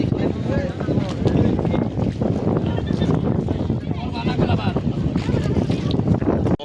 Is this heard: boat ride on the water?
yes